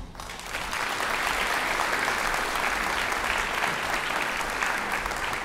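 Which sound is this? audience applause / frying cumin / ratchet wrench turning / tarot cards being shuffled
audience applause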